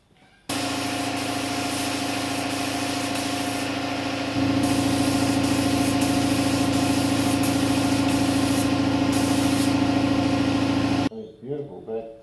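Spray painting a motorcycle fuel tank in a garage: a loud, continuous hiss that grows stronger partway through and runs unbroken for several seconds before cutting off, followed by a brief trailing sound.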